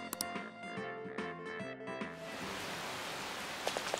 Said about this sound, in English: It's raining really hard.